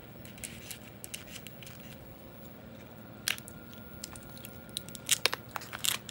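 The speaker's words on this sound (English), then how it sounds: "let's carefully cut away the black plastic from the" Blade snipping away black plastic wrap from a swollen lithium laptop battery, close and quiet, with scattered small clicks and crackles and a few sharper cuts near the end.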